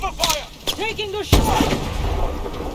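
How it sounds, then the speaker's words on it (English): A single loud, booming shot from combat in the video game Call of Duty Advanced Warfare, followed by a rumbling tail, after short spoken lines. "Open fire when we're in position, Aluna."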